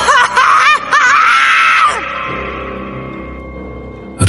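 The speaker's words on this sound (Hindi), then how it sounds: "उसकी चीख गले में ही दब गई" A shrill, wavering scream from a frightened man in a rainy-night horror cartoon tale, loud for about two seconds before cutting off into a low, fading ambient rumble.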